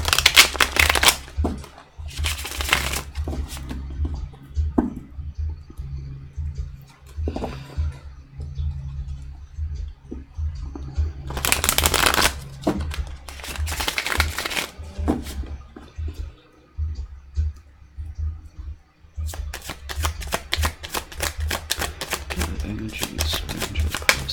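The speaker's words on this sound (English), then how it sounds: "I was getting a feeling I actually shuffled that too many times" Tarot cards shuffled during a full moon soulmate reading, giving several bursts of crisp riffling and flapping separated by quieter pauses, with a low steady hum beneath.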